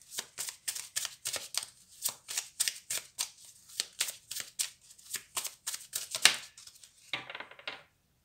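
A deck of oracle cards shuffled by hand, a close, quiet run of steady rhythmic riffling slaps, roughly two per second, with a softer rustle at the end and no talking.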